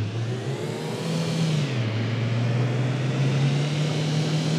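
BMW i8 engine revving in the City Car Driving driving game: a loud, continuous drone that dips in pitch partway through, then holds and slowly climbs, with no talk over it.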